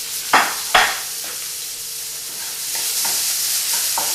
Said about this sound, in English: It's extremely hot, the pan, so look at it popping up